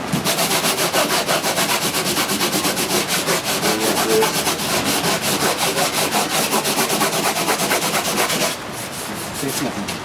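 Steady, loud rhythmic rubbing as sandpaper is worked back and forth over a parchment membrane, continuing without pause for about ten seconds, then briefly changing texture near the end.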